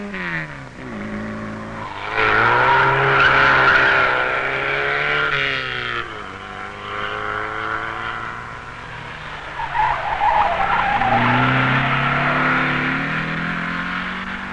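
Rally cars on the Montgenèvre mountain climb, engines revving hard through gear changes with tyre skids and squeals, close and loud, one car after another passing for about fifteen seconds, no talking.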